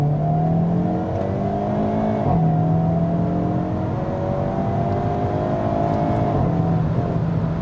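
A 2022 Hyundai Kona N accelerating hard, its engine note climbing steadily through the gears with clear upshift breaks, loud and close from inside the car, no talking.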